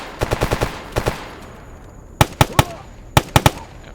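Gunfire from a firefight with Monolith soldiers in the video game Stalker Anomaly: a quick rattling burst of shots, a short pair, then louder spaced single cracks over a faint background hiss.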